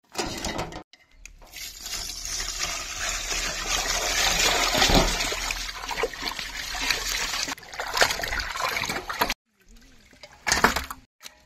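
Mutton chest pieces are washed by hand in water, village style, before a tawa fry, with close sloshing, trickling and splashing that stops briefly twice.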